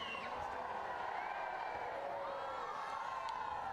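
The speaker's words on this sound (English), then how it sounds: "enjoying the support from the crowd" A crowd cheers and shouts at a Paralympic wheelchair fencing team foil match between Italy and Brazil, a steady loud roar of voices filling a large arena.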